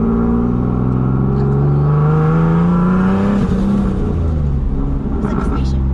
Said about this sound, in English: So when I go full throttle, they open up and it makes it louder.